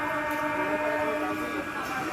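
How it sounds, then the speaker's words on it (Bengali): A local commuter train pulling out of Bally station in the early morning, a steady rumbling drone with a sustained tonal whine. "কিছুক্ষণ হল্ট করে ট্রেনটা আবারও ছেড়ে দিল বালি স্টেশন থেকে"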